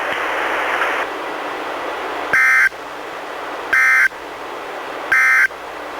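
NOAA Weather Radio's required weekly EAS test sends three loud, identical bursts of harsh data tones, evenly spaced about 1.4 seconds apart, over a steady hissing radio background.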